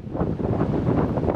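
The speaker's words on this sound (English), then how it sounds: "The wind just doesn't freaking stop." Strong headwind roaring across the microphone while bicycling along a road, a continuous loud low buffeting rumble with no talk.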